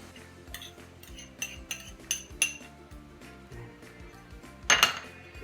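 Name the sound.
mixing tuna pie filling in a bowl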